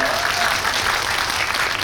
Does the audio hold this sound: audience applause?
yes